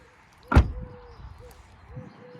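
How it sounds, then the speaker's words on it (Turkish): A single solid thud of a car door shutting nearby after silicone spray lubrication of its lock, followed by a low hum and faint squeaky rattles. "Bakın şimdi kapının kapanma sesine bakın arkadaşlar"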